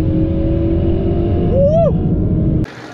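A modified Ford Mustang 5.0 V8 runs hard on a race track, its loud steady engine drone filling the foreground with a brief rising whine partway through before the sound cuts off abruptly.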